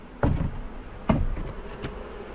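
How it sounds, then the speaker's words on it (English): A low buzz of honeybees near a hive hums steadily in the background, broken by a couple of sharp close knocks or taps; no one speaks. "There's bees down here."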